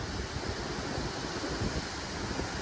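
Big ocean waves roll in on Jamaica's North Coast as a continuous rough roar of surf, mixed with gusty wind buffeting the microphone, with no voices.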